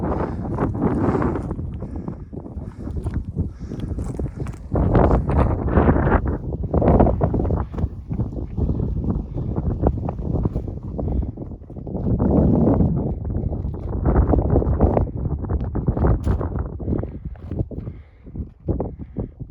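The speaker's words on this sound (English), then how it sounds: "It's really windy" Strong wind buffeting the microphone on an exposed mountain ridge trail with cliffs on both sides along the Appalachian Trail, a loud continuous roar rising and falling in gusts throughout.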